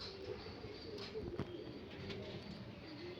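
Pigeons cooing softly among a flock of fancy breeding birds, low repeated coos over a faint steady background hum, distant and quiet with no talk.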